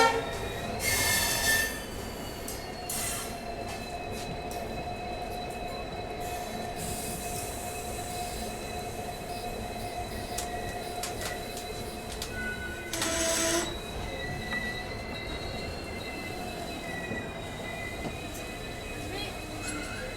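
The Rajasthan Sampark Kranti Express, hauled by an EMD locomotive, is brought to a halt. Long, thin wheel squeals sustain over a steady rail rumble, with short louder bursts early and near the middle and faint voices nearby.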